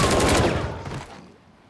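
A loud gunshot blast in a tense scene from War for the Planet of the Apes, a single heavy crack at the start that rings out and decays into quiet.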